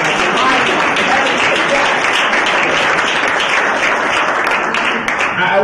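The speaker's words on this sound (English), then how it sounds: "Give yourselves a round of applause." An audience at a leadership and diversity talk claps in steady, dense applause, loud and continuous throughout with no pause.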